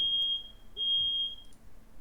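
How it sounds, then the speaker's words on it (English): A smoke or fire alarm sounds in a steady high-pitched beep, with two long tones broken by a short gap, indoors during a class demonstration with quiet room noise. "Oh, that's the fire alarm."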